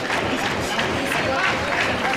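Wrestling crowd at a DGUSA Mercury Rising 2011 title match cheering to rally behind PAC against Akira Tozawa; a dense, continuous roar of voices and scattered clapping fills the arena at steady volume.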